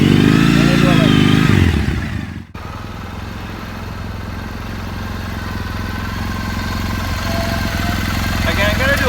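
A motorcycle engine revs loudly, cuts out briefly, then settles into a steady running drone as the bike pulls away on the clutch friction point, with a voice talking over it.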